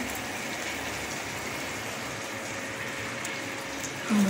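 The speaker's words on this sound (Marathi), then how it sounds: "खूप घट्ट म्हणून थोडंसं पाणी टाकायचं आपण" Water poured into a cooked vegetable dish makes a steady, even rushing stream close by for about four seconds. Nobody talks over it.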